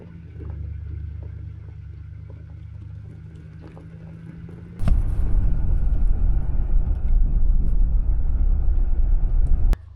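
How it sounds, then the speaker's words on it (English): A vehicle engine idles steadily, then jumps to a louder, harder rumble that holds while backing up with a trailer on frozen mud, then cuts off abruptly. "So I'll be able to back this trailer up, no problem."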